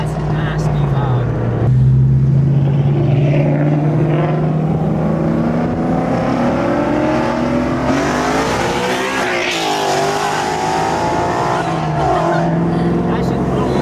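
A Ford 5.0 V8 with a manual transmission revs loud and close, its engine note climbing and falling through sustained pulls, with excited voices over it.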